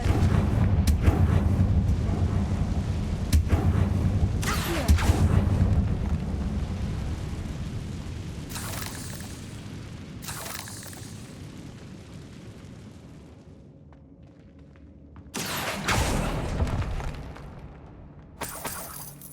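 Confringo spell blasts in the Hogwarts Legacy video game, a series of loud crashing explosive bursts with rumbling low noise, spaced irregularly over a long stretch with a quieter lull before a final heavy burst.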